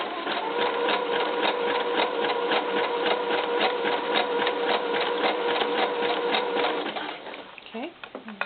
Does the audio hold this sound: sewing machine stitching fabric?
yes